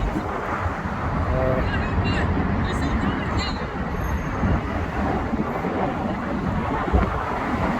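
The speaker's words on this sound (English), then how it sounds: "Windy here." Constant wind rumbles and buffets the microphone, a broad roar that never lets up, with faint voices in the background, over the Hudson River in Manhattan.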